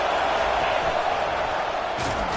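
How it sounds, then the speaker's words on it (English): A college football stadium crowd roars in a steady, loud wash of noise as the home fans rise to help their defense, with a broadcaster's voice faintly mixed in underneath. "It is getting loud as this crowd tries to help its defense."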